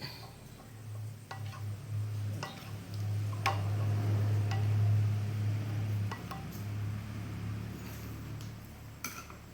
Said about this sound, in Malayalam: എന്നിട്ട് നമുക്കൊന്ന് ഇളക്കി കൊടുക്കാം